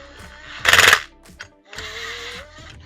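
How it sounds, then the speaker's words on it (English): Power gun tightening bolts on a Kawasaki 650SX jet ski engine: one loud, dense rattling burst of about a third of a second, then a brief tap and a steadier mechanical whir, heard close up. "I'm just gonna go ahead and tighten those a little bit with the gun"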